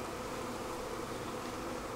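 Soft, continuous buzzing of many honey bees during a hive transfer into a bee barn, a steady hum with faint rustling and no voices.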